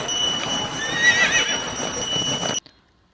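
A horse whinnies over the clatter of hooves clip-clopping, busy and fairly loud for about two and a half seconds before cutting off abruptly into silence.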